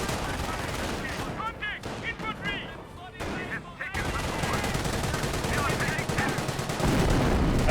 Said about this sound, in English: A pretty good incendiary mortar there.